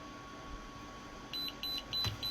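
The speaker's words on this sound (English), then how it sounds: "Wait for the beep" A Conair Curl Secret auto curler beeps as it finishes a curl: a string of short, faint electronic beeps in quick succession over a quiet room.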